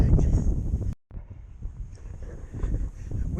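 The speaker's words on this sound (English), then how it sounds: "there's a bloody stiff, freezing cold wind" Stiff, freezing cold wind buffets the microphone on a walk along Bude Canal, a loud continuous rumble that cuts out for a moment near the start before returning just as strong.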